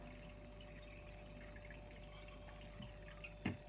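Tap water poured from a bowl over potato meatballs with a little pepper paste in a baking dish, a faint steady trickle that ends in a brief louder splash near the end.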